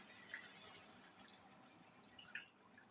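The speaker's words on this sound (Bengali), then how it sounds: "এই যে গরম জল দিচ্ছি, ধোয়া উঠা গরম জল।" Hot water poured into a pan of fish curry on the stove, a soft, steady splash running for a few seconds and heard fairly faintly.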